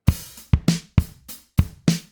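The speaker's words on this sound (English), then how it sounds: "The soft drum kit, for example, sounds like this." UJAM Neon virtual drummer playing its soft drum kit: a short groove of soft kick thumps and snare hits alternating in a steady rhythm, close and clean with no talking.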